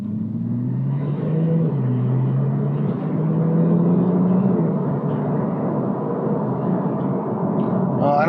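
A 2011 Porsche 911 Turbo S pulls out onto a street and accelerates moderately, its engine a close, steady rumble whose pitch rises through the gears, with a brief sound near the end.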